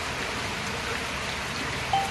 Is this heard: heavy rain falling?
yes